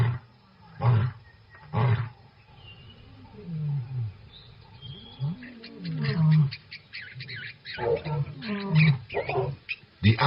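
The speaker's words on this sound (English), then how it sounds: "A lion's roar can be heard up to 8 kilometers away." Lion roaring in the wild savanna, a series of deep, loud, rhythmic roars and grunts building in bursts, close and dominant with no talk.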